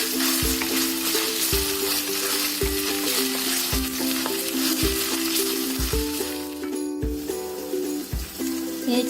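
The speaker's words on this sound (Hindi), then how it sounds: "अब इसमें मैं ऐड करती हूँ जिंजर गार्लिक पेस्ट। इसको भी 1 से 2 मिनट भून लेते हैं ऑनियन के साथ" Ginger garlic paste fries with browned onions in a pot for chicken dum biryani, a constant close sizzle punctuated by regular stirring thumps roughly once a second, with no talking.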